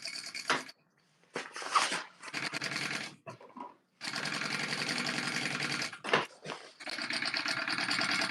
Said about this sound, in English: And then you're going to top stitch along that seam we just sewed.